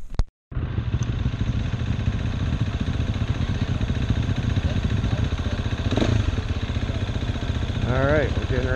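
Several motorcycles idle together at a gathering for a riding class before heading to a dry lake bed, a steady close engine rumble with clattery texture after a brief sharp noise at the start, with faint voices in the background.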